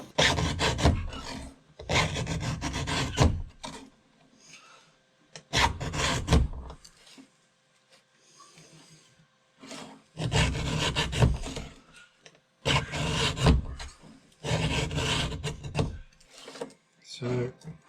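A chainsaw chain is sharpened by hand with a file in a workshop, giving repeated bursts of rasping strokes in an uneven rhythm, close and fairly quiet, separated by short pauses.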